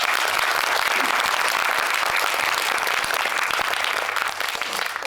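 A packed cinema audience in auditorium 9 at Megabox COEX applauds during a guest-visit Q&A for The Roundup (Crime City 2), dense sustained clapping that holds steady before easing slightly at the end.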